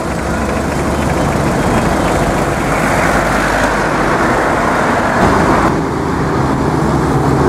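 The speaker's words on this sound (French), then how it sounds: "nous sommes bel et bien sur l'autoroute qui part d'Abidjan au Ghana. Il y a des véhicules de toutes sortes." Dense, loud highway traffic on the motorway from Abidjan toward Ghana, with cars, buses and trucks of all kinds roaring past in a continuous close wash of engine and tyre noise.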